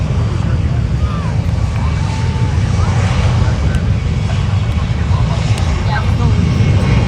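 Boeing 737 MAX 9 jet engines roar steadily at Fort Lauderdale airport, a loud, constant broadband rumble with wind buffeting the microphone and a voice talking over it.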